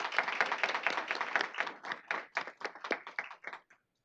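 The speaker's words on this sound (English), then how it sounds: "If we can give them a big round of applause." Applause from a small audience at a state board of education meeting, a few people clapping at close range, dense at first and then thinning to scattered claps before stopping.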